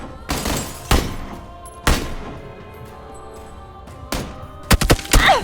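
Gunfire in the battle royale game PUBG: Battlegrounds, with several single sharp shots spaced a second or two apart, then a quick cluster of rapid shots near the end, over a low steady background hum.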